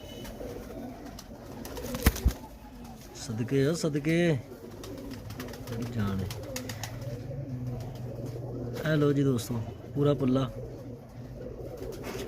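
Breeder pigeons in a loft give low, rhythmic coos in the background while someone talks over them, with a couple of sharp knocks early on.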